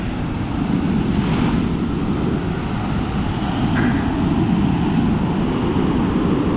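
Ocean surf at Blowing Rocks rolls in as a loud, continuous broadband roar, outgoing waves meeting incoming ones, with wind buffeting the microphone throughout and no voices.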